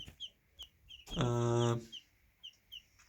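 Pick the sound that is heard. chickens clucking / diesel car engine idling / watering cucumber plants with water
chickens clucking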